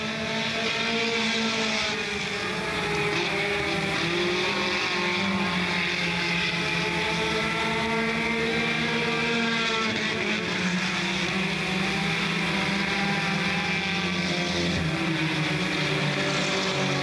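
Front-wheel-drive race cars roar around Smoky Mountain Raceway, engines droning loud and continuous with rising and falling pitch as they pass close by, accelerating through the turns with no break.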